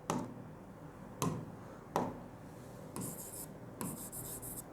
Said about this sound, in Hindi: इसको मैं लिखता हूँ